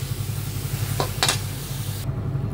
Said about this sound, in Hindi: जो सोया चंक्स हमने बॉईल की थी इसको हम इसमें डाल देते हैं और अच्छे से मिक्स कर लेंगे।